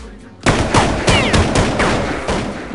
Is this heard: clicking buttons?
no